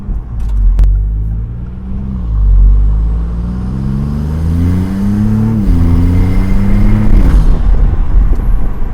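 A Maserati MC20 V6 supercar engine pulls hard inside the cabin with the windows down, a loud, close rumbling drone that climbs in pitch through several gear-held accelerations, dipping briefly between rises.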